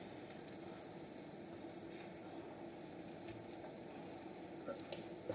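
Meatballs of minced meat with onion frying in a pan, giving a steady low sizzle and crackle throughout, faint and continuous with occasional soft stirring movements.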